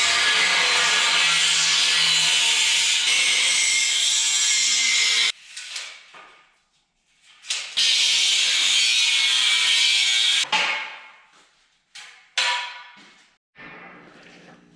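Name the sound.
cutting out workbench legs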